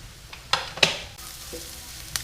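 Onion and garlic sauté in a pan with soft sizzling, broken by a few sharp clicks and scrapes of a utensil against the pan.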